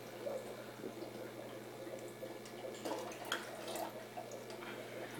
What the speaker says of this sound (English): so we're done adding the water